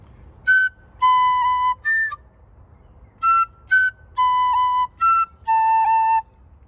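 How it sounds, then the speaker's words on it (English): An Irish tin whistle plays a short phrase of the tune Sí Bheag, Sí Mhór, eight clear, bright notes of varying length with brief breaks between them, close and solo with no talking. "it's not often played on the whistle, and I think these are beautiful, beautiful whistle tunes"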